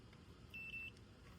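A voltmeter set to its continuity buzzer mode sounds as its two test leads touch, giving one short, faint steady high beep with no talking.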